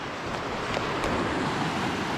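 The Thredbo River runs at a moderate pace through shallow runs, a steady broadband rush of flowing water with some outdoor wind, close and continuous with no voices.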